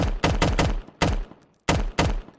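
A 10mm submachine gun in a Fallout: New Vegas mod fires in short rapid bursts, loud and close, with brief gaps between the volleys.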